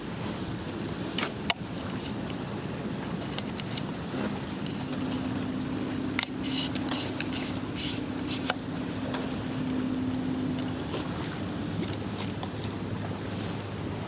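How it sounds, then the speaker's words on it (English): Strong wind buffets the outdoor deck of the cruise ship AIDAperla on departure from Rotterdam, a steady broadband rush with occasional gusts and knocks on the microphone, a low hum running underneath throughout. "There's definitely a lot more wind than yesterday."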